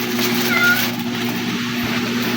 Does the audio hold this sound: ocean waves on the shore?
no